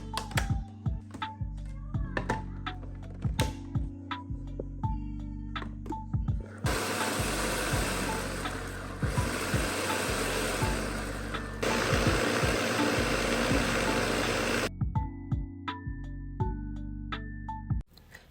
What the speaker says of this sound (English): We'll cover it and grind the oats until I get a flour consistency.